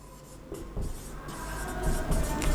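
Marker or chalk scratches on a board in a classroom physics lesson, with steady rubbing strokes for about two and a half seconds. The strokes are close and fairly loud, and no voice is heard.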